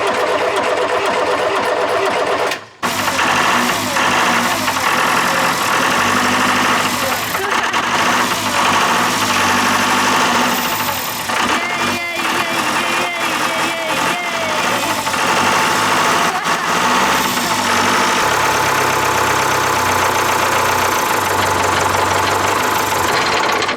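A diesel engine on a catamaran runs rough and uneven just after starting, a loud continuous lumpy rumble with irregular knocking that carries on steadily close by; no speech over it.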